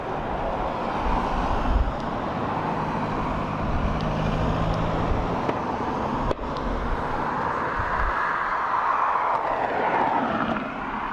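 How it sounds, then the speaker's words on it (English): A Ryanair Boeing 737-800 arriving from Madrid at Dublin Airport: a steady, broad engine roar with low rumble holds at a fairly even level throughout, alone with no talk. "a Ryanair 737-800 in from Madrid"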